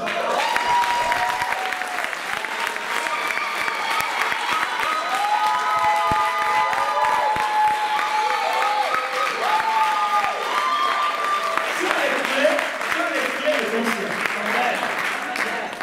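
A church congregation claps and cheers in acclaim of the Lord, a dense, steady wall of applause throughout with crowd voices and shouts mixed in, loud and sustained across the whole stretch.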